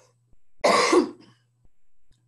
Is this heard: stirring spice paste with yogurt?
no